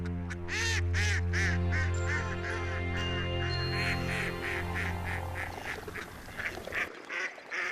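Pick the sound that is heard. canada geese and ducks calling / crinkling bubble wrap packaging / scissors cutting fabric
canada geese and ducks calling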